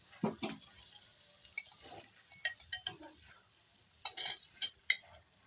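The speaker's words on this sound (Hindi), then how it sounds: "अब हम चिकन मिक्स करके अच्छी तरह से इसकी भुनाई करेंगे" Chicken pieces for a yogurt tikka curry fry in a pan with a soft hiss, broken by scattered scraping and clinking stirring strokes that come in small clusters.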